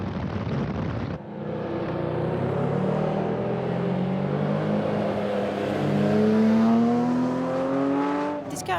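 A 1954 Cooper Jaguar T33 TT race car with a big 6.4-litre Jaguar engine roars loudly and continuously at a classic race meeting at Spa, its engine note rising steadily as it accelerates, with the pitch climbing toward the end.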